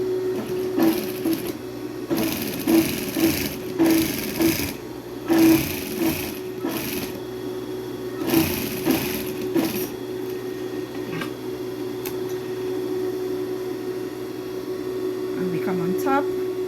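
A sewing machine stitches loops for a pleated school skirt, running in repeated short rapid bursts with pauses between, close up, while someone talks in the gaps and over the stitching.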